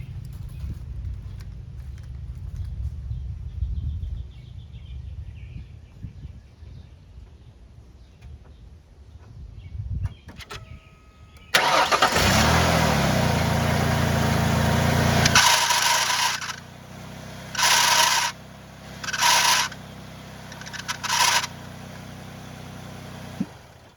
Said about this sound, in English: let me start it up and I'll just move the wheels slightly and you can hear the squalling.